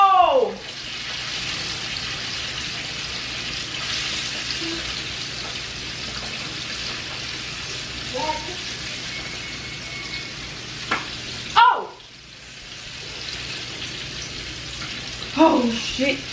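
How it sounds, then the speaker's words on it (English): Food frying in oil heated far too hot, a constant dense sizzle with occasional louder pops and crackles, heard close, with a person's voice breaking in at moments. "Even though I made the oil like way too hot, like it's gonna like make a fire pop"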